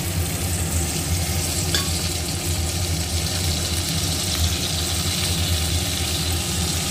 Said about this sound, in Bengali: এবার কিন্তু আমি দিয়ে দিচ্ছি লঙ্কা এবং পেঁয়াজ কুচি